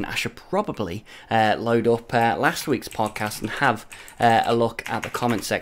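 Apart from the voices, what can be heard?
mechanical keyboard typing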